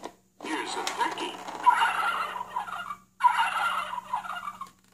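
A battery-free pull-string animal sound toy gives a turkey gobble, two rapid bursts of gobbling separated by a short pause, close and fairly loud.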